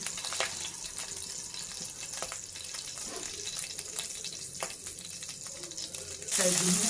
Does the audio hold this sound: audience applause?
no